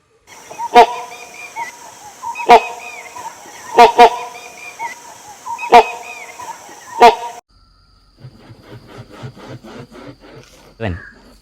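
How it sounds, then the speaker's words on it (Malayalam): Great hornbill, Kerala's state bird: loud, evenly spaced whooshing wingbeats repeat about five times, then a quick series of rough, throaty calls and a rising squawk close by. "സംസ്ഥാന പക്ഷിയായ ഈ മലമുഴക്കി വേഴാമ്പലിൻ്റെ ചിറകടിയും അതിൻ്റെ ശബ്ദവും ഒന്ന് കണ്ടും കേട്ടു നോക്കൂ"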